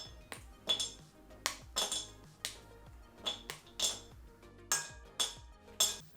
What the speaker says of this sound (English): we're going to break our chocolate into chunks so that it melts more easily.